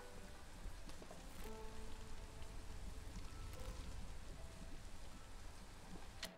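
A soft, steady patter of light drizzle in the video game Against the Storm continues evenly throughout, quiet and without voices.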